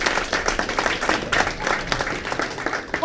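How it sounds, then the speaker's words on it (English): A comedy club audience in Seattle claps steadily for about three seconds, a dense, even patter of many hands with no pauses. "clap your hands if you've been to a comedy show before"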